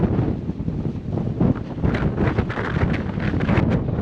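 Strong wind buffets the microphone in a cemetery in Saint Pierre, a steady loud rumbling roar with gusts for the whole stretch and no talk.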